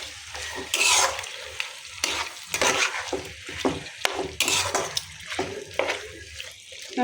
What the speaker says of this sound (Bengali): এখন আমি সুন্দর করে মাংসটা কষা নিয়ে